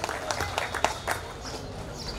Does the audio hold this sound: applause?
yes